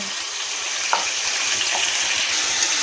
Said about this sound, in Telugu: వేసుకొని ఇలా బాగా వేపుకోవాలండి